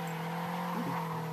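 Car tires skidding and squealing through a tight corner drift in a racing video game, a steady engine drone with a brief screech rising midway, no talking.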